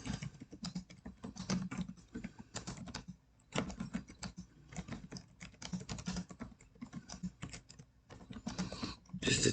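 Fingers type on a computer keyboard in quick, irregular bursts of close, crisp key clicks. Brief pauses separate the runs of keystrokes, and the sound is quiet with no talking.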